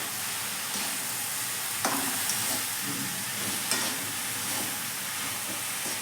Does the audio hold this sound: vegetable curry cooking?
yes